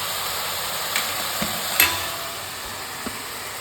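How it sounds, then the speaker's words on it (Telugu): Curry leaves dropped into hot oil for a spicy chicken curry, a steady close sizzle with a few small pops and spatters over a continuous frying hiss. "ఇందులో కరివేపాకు యాడ్ చేస్తానండి."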